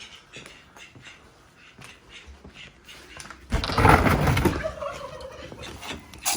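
Aylesbury ducks in a workshop break into a loud burst of quacking and gabbling midway, over quieter shuffling and background noise beforehand.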